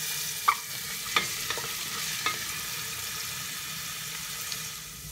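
Ginger and two green chillies fry in ghee inside a pressure cooker, making a faint, steady sizzle with a few soft clinks of a spoon against the metal.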